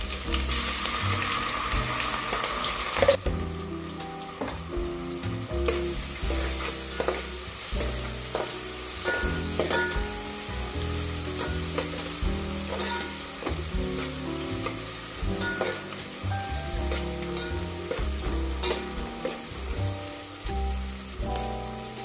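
Green chilli pieces and ginger garlic paste fry in hot oil with onions for a mushroom biryani, a steady close sizzle broken by frequent stirring scrapes and clinks throughout.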